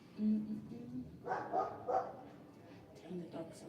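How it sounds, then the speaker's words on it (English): A small Jack Russell and Chihuahua mix dog barks several times in a quick cluster, moderately close, with quieter yips afterward against a faint indoor background. "Dang, the dog sounds close."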